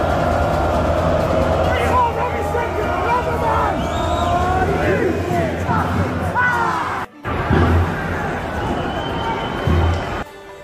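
Home football crowd at a Bolton Wanderers match, angry at the referee: a dense, restless roar of voices and shouts fills the stadium throughout, with a brief dropout near the end before the noise returns.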